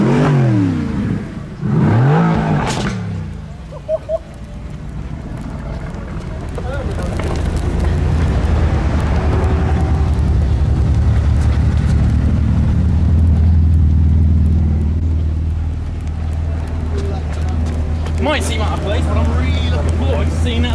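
Supercars at the Goodwood hill climb, including the McLaren 720S, with a loud engine roaring past, then a long rumbling drone and wind buffeting, mixed with voices.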